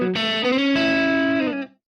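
An electric guitar strums a chord through an edge-of-breakup tone in Ableton, slightly gritty and ringing. A second strum follows quickly, then the chord sustains before cutting off cleanly into silence.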